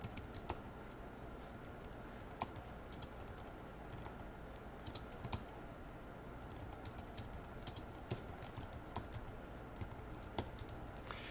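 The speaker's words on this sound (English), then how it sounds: "I'm just going to type out this note" Steady, fairly quiet typing on a computer keyboard, a continuous patter of light key clicks with a few sharper taps, heard alone without talk.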